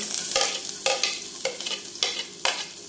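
Garlic sautés in a pan for chicken asado siopao filling, a soft steady sizzle broken by about six regular scraping stirs of the spatula, close and with no speech.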